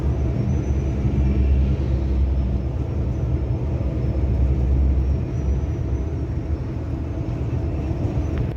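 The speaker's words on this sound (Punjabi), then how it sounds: "ਜਹਾਜ਼ ਜਾ ਰਿਹਾ ਸਾਡੇ ਉੱਪਰ ਹੀ" A low, steady rumble of an airplane passing overhead, heard over a city in Belgium, continuous and fairly loud with no voices.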